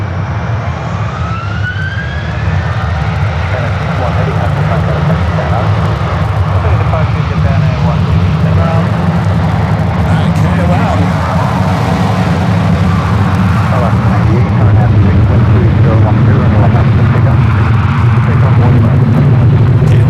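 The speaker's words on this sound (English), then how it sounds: "Dreamliner going to be taking off one right" A Boeing Dreamliner jet airliner taking off from runway 1 right at San Francisco airport: a steady, loud roar of jet engines that builds slightly over twenty seconds, with a faint rising whine at the start.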